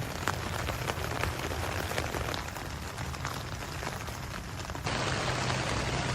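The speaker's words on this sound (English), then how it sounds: "And it just started raining. So it's kind of a light rain." Light rain pattering steadily on a tarp shelter during an overnight camp, a dense even patter of drops close overhead with no voices.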